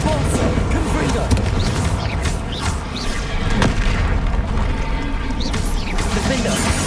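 Confringo spell explosion in a wizard video game, a dense roaring blast and rumble holding steady and loud for the whole stretch, with battle noise and a voice shouting underneath.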